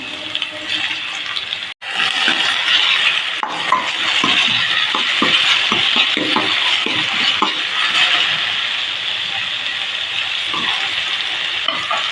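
Onions and tomatoes frying in a pan for an egg thokku, a steady close hiss and sizzle running for about twelve seconds, with occasional spoon scrapes and stirring clatter and no talking.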